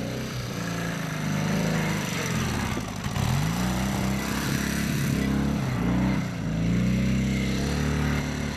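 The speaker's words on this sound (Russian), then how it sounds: "Мотоцикл «Урал». Вот на его базе сделан трицикл." A homemade off-road trike built on a Ural motorcycle engine, with Zhiguli classic axles and rear wheels, idles and revs steadily up close, its low throbbing note rising and falling through several throttle blips.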